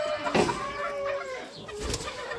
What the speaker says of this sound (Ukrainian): О, курочка там сидить.